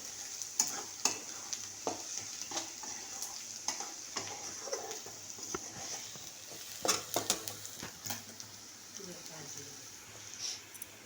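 Onion frying with a little turmeric in a pan, stirred with scattered scrapes and light sizzle at moderate distance; faint voices murmur in the background.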